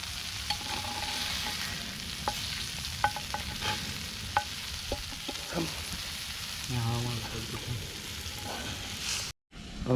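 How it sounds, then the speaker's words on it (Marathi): Bangda mackerel fish fries outdoors in a village forest setting, a steady sizzle broken by clicks and stirring knocks, close up with no speech. "आणि ते आपल्या आता फ्राय होतात आहे बांगडा"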